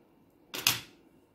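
A single quick snip of scissors cutting crochet yarn on a small crocheted fir branch, a sharp double click, close and faint against quiet.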